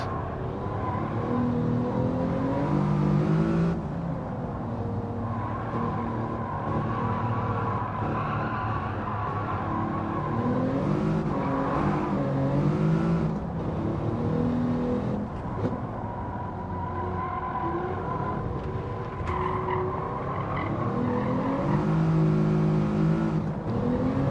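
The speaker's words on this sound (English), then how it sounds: "here the car should be four-wheel drifting through this section" Tyre squeal and steady engine drone from a car four-wheel drifting through a section of the Streets of Willow track in Gran Turismo 7, continuous and loud with shifting revs throughout.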